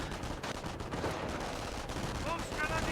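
MP40 submachine guns firing in Company of Heroes, a WWII strategy game, during a 2v2 match: a dense, continuous rattle of gunfire and battle noise mixed with faint overlapping voices.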